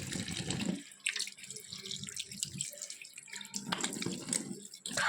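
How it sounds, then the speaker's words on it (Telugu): Water splashes and runs from a tap while a face is being washed, in close, uneven bursts of splashing and trickling with short pauses between. "ఇప్పుడైతే ఫేస్ వాష్ అయితే చేసేసుకుంటున్నాను."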